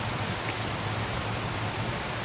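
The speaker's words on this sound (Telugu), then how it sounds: "ఇలా వాన కురుస్తుంటే మొక్కలకి ఆనందం" Steady rain pouring down, a dense even hiss of drops hitting surfaces with no pauses, close and continuous throughout.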